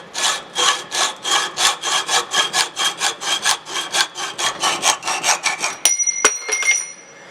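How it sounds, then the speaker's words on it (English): A hacksaw cuts a gun part clamped in a vise, loud rhythmic rasping strokes in a steady back-and-forth pace, then the sawing stops and a metallic ring and clinks follow. "So we're going to cut it down with a hacksaw."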